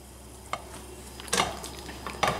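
Venison, onions and zoodles with spaghetti sauce stir in a pan, a low steady sizzle broken by three distinct scraping stir strokes, close and moderately quiet.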